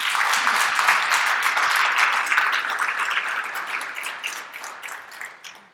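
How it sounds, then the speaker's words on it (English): Audience applause at a speaker-series talk in a hall, a dense, steady wash of many hands clapping that holds strong and then gradually thins and fades away, with no talking over it. "can we please also give him a huge round of applause?"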